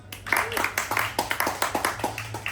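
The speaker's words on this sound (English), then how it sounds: "give them a round of applause" A small comedy club crowd in Soho breaks into rapid, fairly loud applause lasting a couple of seconds, the individual hand claps sharp and close over faint crowd murmur.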